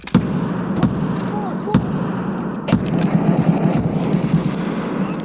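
Gunfire in the Escape From Tarkov shooter game, sharp shots cracking at irregular intervals over a dense, steady background rumble, with players talking throughout.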